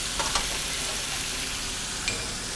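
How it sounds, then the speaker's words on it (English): Pork shoulder browning in a hot pan for balsamic braised pork, giving a steady, loud broadband sizzle with a few brief clicks of the meat being turned near the start and end. "we're going to flip the pork shoulder and brown the other side."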